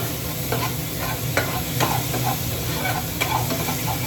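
Spices for jackfruit bhuna being stirred and fried in a pan: steady close sizzle with intermittent scraping strokes of a spoon, no talk.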